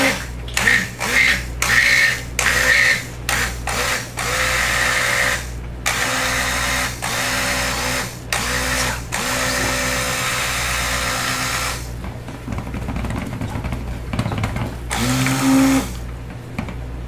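A stick blender whirs in bursts through cold process soap batter, with short pulses early on and then longer steady runs, loud and close, no talking.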